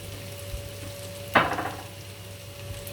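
Onion cooking in a pan for sıkma gives off a steady low sizzle, broken once midway by a short, sharp burst of louder crackle that fades back into the quiet frying hiss.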